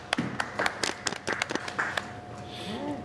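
A few scattered claps from a small audience, sparse and uneven, trailing off after a couple of seconds, with a voice briefly heard.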